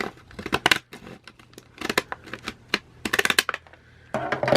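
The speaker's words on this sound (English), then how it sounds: "I'm going to open it from the bottom. So with my decorative scissors," Decorative scissors snipping open the bottom of a wrapped gift package, a quick run of sharp close crisp cuts and paper crinkles in irregular bursts, loud and with no talk.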